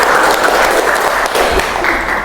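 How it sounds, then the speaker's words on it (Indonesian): A classroom group claps for group one during a teacher's project-based learning lesson, the applause dense and steady from start to finish, loud and close with no talking over it. "Kelompok 1, tepuk tangan dulu kelompok 1 teman-teman ya."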